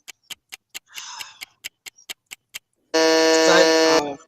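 A harsh electronic buzzer blares for about a second, loud and continuous, after a run of short, evenly spaced ticking clicks, with a smaller buzzy burst early on.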